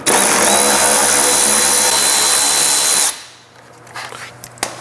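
A power drill runs loud and steady for about three seconds, backing out fender liner screws on a Toyota 4Runner, then stops, leaving a few small clicks and taps.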